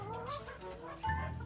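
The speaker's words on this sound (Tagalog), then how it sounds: "Bale 6 na hen, native chicken pure." Native chickens, a small backyard flock of six hens with a rooster, cluck and call in short tonal bursts, close by, with a louder, lower cackle near the end and no talking.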